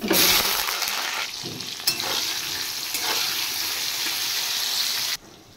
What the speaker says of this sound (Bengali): এবার আমি ট্যাংরা মাছ রান্না করার জন্য তেল দিয়ে নিচ্ছি আর বেগুন ভেজে নেব।